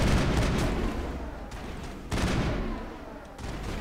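Gunfire in a Mass Effect firefight, a dense, loud, continuous barrage with heavy impacts near the start, the middle and the end, close and unbroken.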